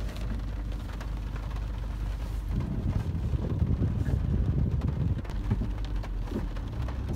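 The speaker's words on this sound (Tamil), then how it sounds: "வெளியே மழை பெஞ்சிட்ருக்கு" Rain falls steadily outside a car at a safari park, a dense hiss of drops striking the car's surfaces. The wash swells louder in the middle and keeps up throughout with no voices.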